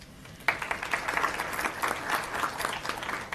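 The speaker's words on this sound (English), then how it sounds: "lot of clapping" Applause breaks out at a school board meeting as officers are introduced, a sudden burst of many hands clapping from a modest indoor audience, sustained and fairly even for a few seconds.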